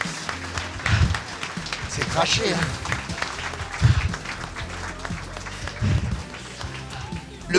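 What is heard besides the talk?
audience applause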